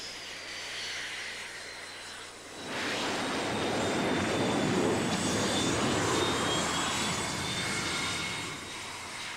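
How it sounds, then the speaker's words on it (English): A 20-ton jet airplane landing at about 120 miles an hour on an aircraft carrier deck, engine roar swelling sharply after a quieter whine and holding loud, broad and close for several seconds. "A 20-ton airplane landing at 120 miles an hour is brought to a halt in 200"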